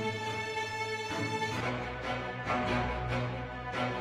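A single sustained animated string ensemble note from the Strings of Winter plugin. It starts as a steady, layered chord, then swells and pulses in a rhythmic, shimmering motion, played alone and fairly full.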